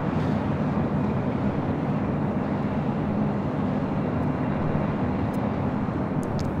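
An Alaska SkyWest Embraer E175LR regional jet arriving at LAX from SFO, heard as a steady, loud broadband roar with a low droning hum that holds evenly throughout, with no talk.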